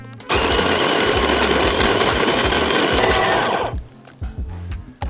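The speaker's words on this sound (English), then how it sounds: "switch the grinder on" An electric coffee grinder grinding coffee beans to a filter setting, a loud close whirring buzz that runs about three seconds and then cuts off, leaving faint clatter behind.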